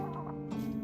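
Farmyard chickens giving a short, close, throaty fowl call lasting under a second, heard alone without talk.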